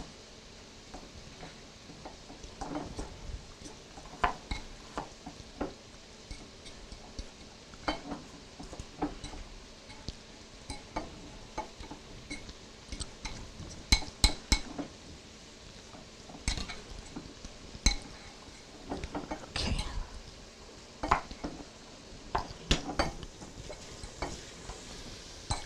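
Sugar, flour and walnuts are mixed for a crust, giving irregular scraping and clinking of a utensil against a bowl, with soft gritty rustles in between.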